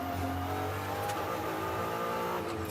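A Ferrari 296 GT race car under throttle at Sebring, a loud, close, sustained engine drone with shifting pitch as the driver feeds in power through a corner.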